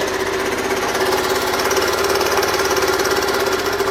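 A Suzuki DR125 motorcycle engine runs on choke, giving a loud, steady, close-up chugging idle with an even rapid pulse and no pauses or voices throughout.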